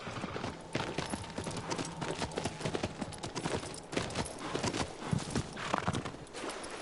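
Horse hooves clip-clopping in the video game Shadow of the Colossus, a steady galloping rhythm of hoofbeats over ambient game sound, with an occasional whinny and no talk.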